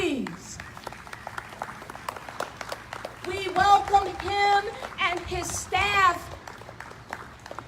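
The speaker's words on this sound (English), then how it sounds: "We welcome our Mayor Michael Victorino with applause, please." Scattered clapping from a crowd at a Martin Luther King Day gathering on Maui greets the mayor, a light, patchy patter heard under someone speaking over a microphone.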